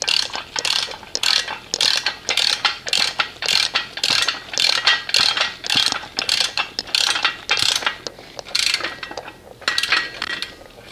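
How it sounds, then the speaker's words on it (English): A hand ratchet snugs down 14 mm nylock nuts while a Jungle Jims mower lift is being assembled, giving steady, rhythmic bursts of metallic clicking with brief pauses between strokes, close and loud. "and then we're going to take our nylock nut. These are 14 millimeter, by the way. And just tighten them up."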